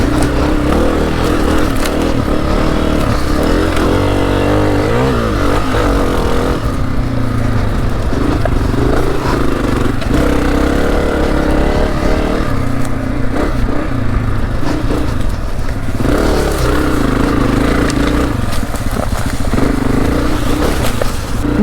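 A 2024 Honda CRF250F trail motorcycle ridden on dirt trails gives a steady, close engine drone that rises and falls with the throttle, with scraping and rattling from the ride.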